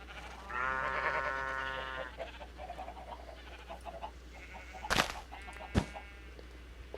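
Sheep bleating in a farm video game, a long wavering bleat early on, then quieter ambient farm noises with a couple of sharp clicks later.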